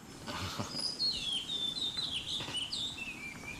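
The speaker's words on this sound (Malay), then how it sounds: "Burung murai, Pak." An oriental magpie-robin sings a high, warbling series of whistled notes, moderately close, over a constant low background hiss.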